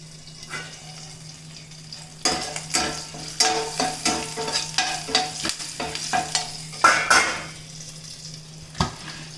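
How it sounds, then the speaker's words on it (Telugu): Spice tempering sizzles and crackles in hot oil in a pan for an ivy gourd masala curry, with a lid nearby. After a quiet start, it turns into a steady run of loud spitting bursts mixed with stirring and pan clatter. "తిరగమాత వేగిందండి"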